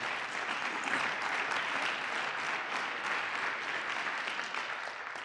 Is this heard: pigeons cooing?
no